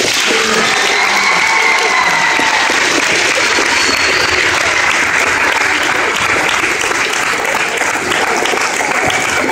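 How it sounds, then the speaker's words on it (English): A large audience applauds steadily and loudly for a principal being honoured as state Principal of the Year, with dense clapping sustained throughout and faint crowd murmur beneath. "I think we need another round of applause for Mr. Appel."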